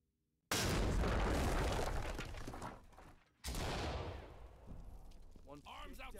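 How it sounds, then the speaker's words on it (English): A C2 breaching charge blasts loudly, followed by a flashbang detonation in the tactical shooter Ready or Not, two big booms with a sharp gap between them and a rumbling decay, then faint voices under the ringing tail. "Deploy C2, then flashbangs."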